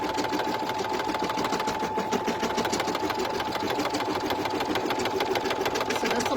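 An embroidery machine runs a tacking stitch through thick material for an in-the-hoop sleep mask, a fast even mechanical chatter that holds steady throughout.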